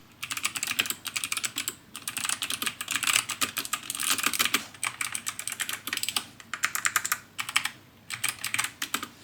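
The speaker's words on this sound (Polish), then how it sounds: "wyraźny klik niczym w Cherry mixach Blue, bo to nie są liniowe przełączniki" Fast, crisp clicking of an MSI Vigor GK50 Elite mechanical keyboard with clicky switches being typed on, close up, with bursts of keystrokes and brief pauses between them.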